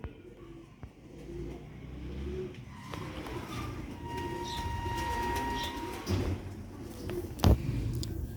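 Rooftop pigeons of a Sialkoti breed cooing softly in an outdoor loft, low murmuring coos repeating under steady background noise, with passing traffic and a brief louder knock near the end.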